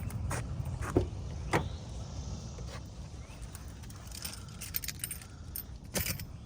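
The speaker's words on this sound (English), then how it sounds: "Several keys." Car keys jangle in a bunch around a 1998 Toyota Celica GT-Four, with several sharp metallic clinks and rattles spread across the clip against a quiet background.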